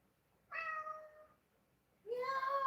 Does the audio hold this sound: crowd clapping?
no